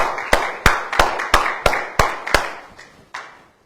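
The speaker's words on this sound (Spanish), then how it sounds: "aplauda al Rey" A church congregation claps together in a steady rhythm: about nine sharp, evenly spaced claps, each ringing briefly in the room before the beat trails off.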